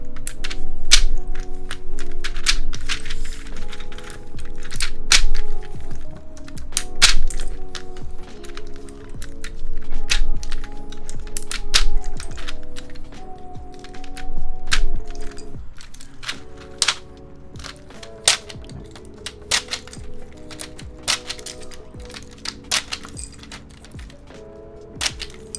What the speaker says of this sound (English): So you just grab a keycap puller. Here I have one, and you just remove the keycaps.